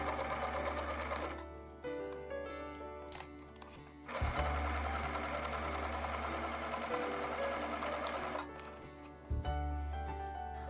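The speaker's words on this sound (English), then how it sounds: "you're going to want to sew once again with a 1/4 inch seam allowance, the top and the bottom, sewing over the pleats" A sewing machine stitches across the top and bottom edges of a pleated fabric face mask, running in steady sustained bursts with two brief pauses, close and loud with no voices.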